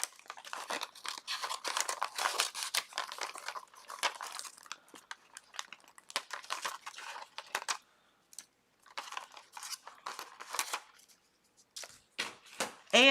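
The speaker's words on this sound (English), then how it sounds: "I'm going to cut some of this off." Scissors cutting an Infusible Ink transfer sheet for a layered T-shirt project: close, crinkly snipping and crackling paper sounds in uneven bursts with short pauses, quiet and without talk.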